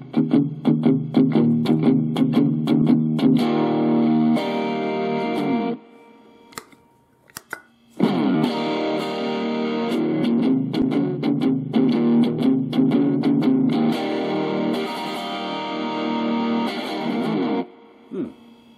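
An electric guitar played through a super overdrive pedal with the drive turned up rings out in loud sustained distorted chords, pausing briefly before strumming again.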